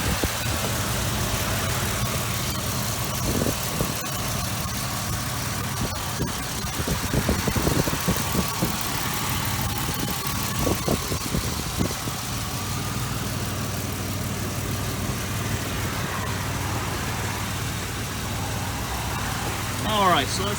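The 4.0 V6 Ford engine of a 2005 Ford Explorer XLT 4X4 idles with a steady, mid-pitched rumble and faint vibration, running evenly and close by for the whole stretch.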